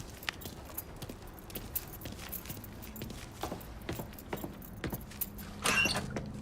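Keys grabbed and jangling in Mafia 3, scattered light metallic clinks and rattles over a quiet background, ending in a brighter burst of jingling near the end.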